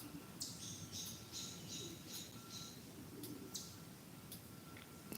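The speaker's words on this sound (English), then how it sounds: "Hear that little clicking noise? That's a little ground squirrel." Small ground squirrel giving sharp clicking chirps outdoors after rain, a run of quick high clicks repeated in short bursts at a moderate distance over a steady background hiss.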